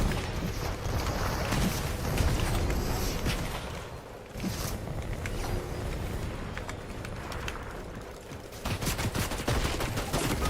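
Gunfire in the Fortnite video game, rapid bursts of shots with sharp cracks scattered over a busy, loud game soundscape, with no pauses in the din.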